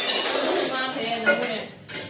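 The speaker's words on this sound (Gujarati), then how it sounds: "ફટાફટ વાસણ ઉટકીએ." Dishes and utensils being washed at home give off repeated close clinks and clatters of metal cutlery and pots, scraping and knocking together over a soft background of running water.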